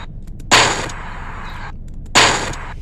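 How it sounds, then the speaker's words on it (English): Two sharp explosion effects burst out about a second and a half apart, each a loud booming crack that decays quickly, used as a Goku energy ball kill effect. "if you want the explosion to happen a bit faster"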